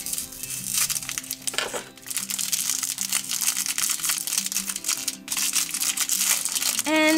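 Plastic wrapper crinkles and crackles continuously up close as a ZURU surprise ball is unwrapped, busy rustling with a brief tonal squeak at the end.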